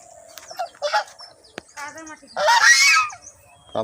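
Ducks on farmland next to a rice paddy being harvested give several loud nasal honking quacks close by, a short burst near the end standing out, over a quiet background.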